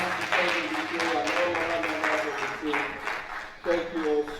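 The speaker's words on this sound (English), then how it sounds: "Can you just wave a round of applause for them?" Audience at a banana seed certification workshop giving a round of applause for certification officers, scattered clapping under a voice speaking over a microphone.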